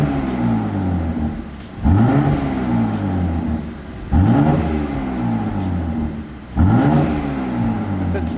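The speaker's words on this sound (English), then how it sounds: "And give it a little rev." A BMW G80 M3 engine with an AWE catback and mid pipe revs three times, each blip rising sharply from a deep idle and falling back, loud and close with a strong exhaust tone.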